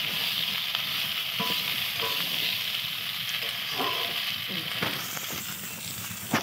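Vegetables fry in a pan for a Bengali fish curry, a steady close sizzle with intermittent spatula scrapes and knocks from stirring, and a sharp clack at the end.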